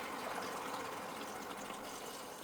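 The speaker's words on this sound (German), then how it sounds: "Das Wasser fließt jetzt in die Anlage." Water flowing from the cold-water connection under a kitchen sink into an under-sink water filter system, a steady, broadband rushing hiss that holds evenly at moderate level with no talk.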